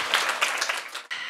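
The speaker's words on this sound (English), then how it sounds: "let's give our presenter a round of applause" An audience at a robotics and data science event applauds a presenter, with dense, close clapping from many people that dips briefly near the end and then resumes.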